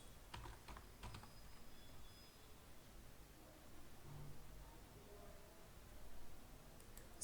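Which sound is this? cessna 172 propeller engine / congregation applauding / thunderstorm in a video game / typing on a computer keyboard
typing on a computer keyboard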